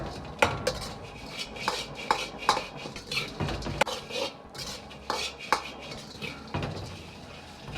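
Seasoned lotus root shreds are tossed in a wok with salt, sugar and pepper, making a series of metallic scrapes and clanks from the utensil against the pan over a low rustle, close and uneven in rhythm.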